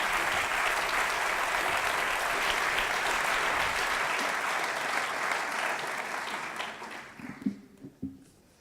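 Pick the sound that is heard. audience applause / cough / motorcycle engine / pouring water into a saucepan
audience applause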